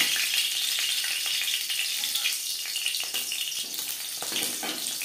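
Slit green chillies fry in hot oil with whole cumin, giving a bright, crackling sizzle that holds steady and fairly loud throughout, with no talk.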